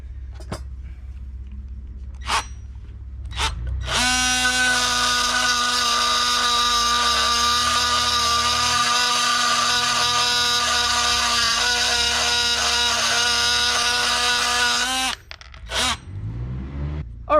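A power tool fitted with a metal cutting attachment grinds through a construction nail, a loud, steady high-pitched whine lasting about eleven seconds, preceded by a few clicks and followed by handling noises.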